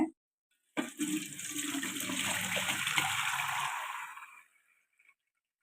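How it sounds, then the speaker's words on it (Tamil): Hot water mixed with turmeric powder is poured steadily over dried fish in a kitchen for about three seconds, a close continuous splash and trickle that tapers off, with no talking. "சுடு தண்ணியில் மஞ்சத்தூள் போட்டு கருவாடை சுடு தண்ணி ஊற்றி கழுவுறதுக்காக ஊற்றி வச்சுக்கிறேங்க"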